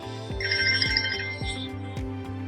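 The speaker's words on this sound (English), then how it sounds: "So if I use it from the phone, it will make the watch ring." A replica Samsung Watch Ultra smartwatch rings when located from the phone, playing a repeating electronic ringtone with short rhythmic pulses and a sustained higher tone, loud and close with no talk.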